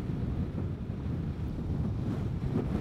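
Steady low wind buffeting a microphone while riding a Vespa GTS 300 scooter on a country highway, a constant rumbling roar with no voices.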